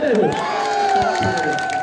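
An outdoor crowd at a village stage show in Mandari bazaar cheers and whoops loudly, a dense wash of raised voices with a few faint claps.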